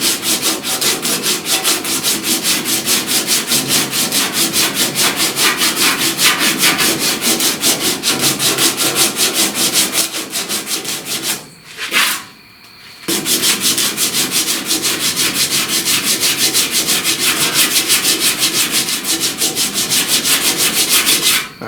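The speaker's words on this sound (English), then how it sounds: "I gotta sand that off." A sanding block working old paint off a truck cab corner, producing rapid, rhythmic back-and-forth rasping strokes close to the microphone that run almost without break apart from a short pause near the middle.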